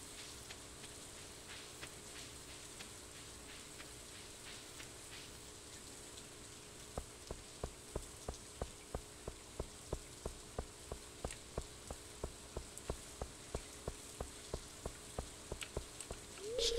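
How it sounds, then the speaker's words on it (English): Steady rain falls across a Stardew Valley farm, a soft continuous hiss overlaid with a regular, evenly spaced ticking pattern that grows more distinct in the second half, with no voices. "we'll take advantage of that rain today so that I won't have to water that"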